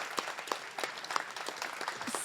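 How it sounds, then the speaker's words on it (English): A crowd at an IUCN World Commission on Protected Areas evening social event applauds with fairly faint, scattered clapping that stays fairly even and somewhat distant. "But we want to give you a big applause."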